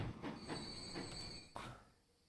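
A train rolls along rails in Transport Fever 2, with rhythmic wheel clacks and a high metallic squeal, heard fairly faint and fading out toward the end, with no talking.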